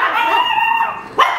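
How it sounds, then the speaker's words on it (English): A dog barks loudly and close at someone outside across the street, giving a sustained bark-howl followed by a sharp, higher yelp, with nothing else heard. "Big bark."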